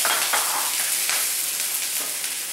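Minced ginger sizzles in hot oil infused with cloves for a butternut squash curry, giving a steady, close, bright frying hiss with faint stirring scrapes throughout.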